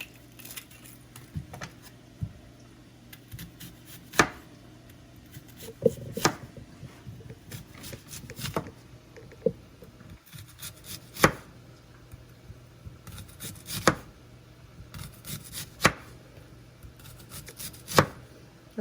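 A knife slicing a small onion into rings on a cutting board for a ham and cheese sandwich: quiet, uneven cuts with sharp taps as the blade meets the board, spaced every second or two, close up.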